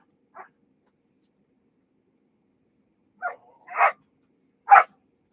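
Dogs bark indoors, a single short yip followed after a long pause by three sharper barks in quick succession, fairly close and loud against near silence.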